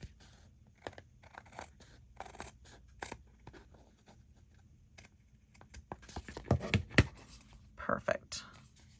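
Scissors make small trimming snips on a journal card, with scattered cuts and paper rustles close by and handling noise growing busier toward the end.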